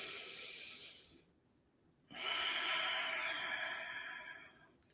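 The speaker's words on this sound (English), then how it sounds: "And then just breathe in." A person takes a slow, deep breath, a loud airy hiss that falls silent for a moment, then another long, strong inhale or exhale that gradually fades.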